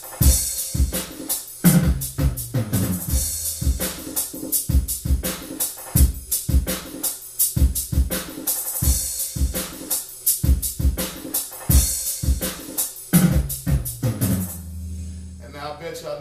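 A hip-hop beat loops with punchy sampled snares, steady hi-hat work and deep 808 bass hits in a regular rhythmic pattern, loud and continuous before cutting off near the end.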